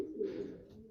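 Racing pigeons coo softly in their loft, a low, close, throaty rolling call with no voices.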